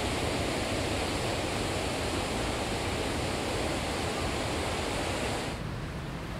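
Ocean surf on the east coast of Barbados roars as a steady, dense wash of breaking waves, loud and close, easing slightly near the end.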